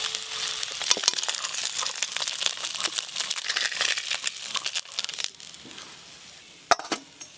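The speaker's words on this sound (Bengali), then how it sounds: "মাছগুলো ভালো করে ভাজা হয়ে গেছে" Small gang mourola fish fry in hot oil with a dense crackling sizzle and sharp spattering pops, loud and close, easing slightly near the end with one last sharp burst.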